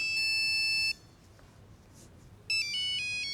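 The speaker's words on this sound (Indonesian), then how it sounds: "Suatu handphone di suatu ruangan berbunyi." A mobile phone rings in a room in a film, a loud electronic tone that plays close by, stops for about a second and a half over soft background hiss, then starts again.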